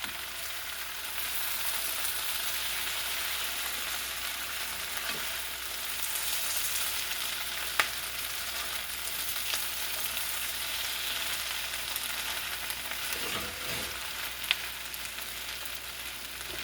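Potatoes with onions and peppers fry in a pan, a steady hissing sizzle at close range that carries evenly throughout, with a couple of soft scraping stirs.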